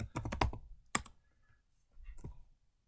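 Typing on a computer keyboard in a quiet room: a quick cluster of close, crisp key clicks, a lone sharper tap, then a softer clack after a pause.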